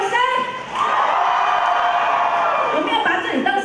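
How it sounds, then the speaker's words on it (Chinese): A concert audience at a live music show screams and cheers, a loud, sustained crowd roar that swells after a brief dip and carries on steadily, with whoops rising above the wash of noise. "尖叫声！"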